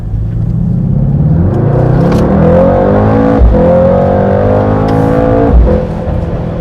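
A 2019 Mercedes-AMG GT63 S 4-Door Coupe engine roars loudly and continuously, rising in pitch through the gears with brief drops at each shift while accelerating hard.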